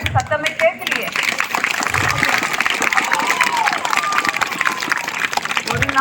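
An audience applauds at a stage event, dense sustained clapping with crowd cheering that swells after a brief opening moment and carries on steadily, fairly loud and close.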